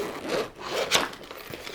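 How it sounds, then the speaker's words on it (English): A waterproof zipper on an artist's carry case is pulled open in a couple of short, close rasping strokes, quiet and without talk. "This is a waterproof zipper."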